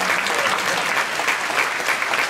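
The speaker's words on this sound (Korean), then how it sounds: "우리 청년들 위해서 박수 한번 치겠습니다" A church congregation at a Friday night worship service applauds for the visiting youth group, a dense, steady wash of many hands clapping close and loud with no talking over it.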